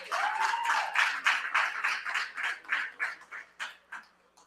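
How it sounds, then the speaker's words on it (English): Clapping from a gala audience at an entrepreneurial awards celebration, a fairly quiet, scattered round of claps that thins into separate claps and fades out. "Give a round of applause, everybody."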